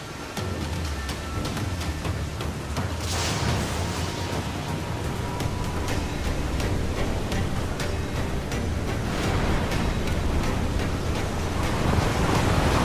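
Rough, stormy seas in the Caribbean in Assassin's Creed Black Flag, with waves surging and wind roaring in a dense, steady wash that fills the whole stretch at constant loudness, with no voices.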